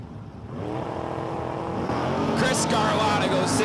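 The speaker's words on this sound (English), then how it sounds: "Ron Jewell and Chris Scarlotta coming down track in a pair of Chevys now." A pair of Chevrolet drag race cars at Empire Dragway rumble down the track, engine roar rising steadily in loudness toward the end, a continuous racing drone with a hint of crowd or announcer voice underneath.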